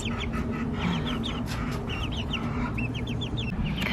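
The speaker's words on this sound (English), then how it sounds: "They are leghorns, I think a brown leghorn and a silver leghorn" Brown and silver leghorn chickens cluck and chirp repeatedly at close range in a warm Dallas, Texas summer setting, a string of short rising calls over steady background noise, no one speaking.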